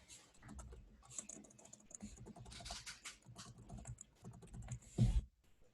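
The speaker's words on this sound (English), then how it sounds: "now I would just type my last name in" Computer keyboard typing in a quiet room, a quick patter of light key clicks running steadily for several seconds before a louder thump near the end, with no voices.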